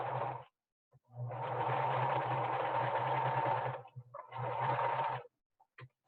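Sewing machine running steadily as it stitches along the edge of a fitted fabric face mask, two long close bursts of motor whir separated by a brief pause, with a few small clicks at the end.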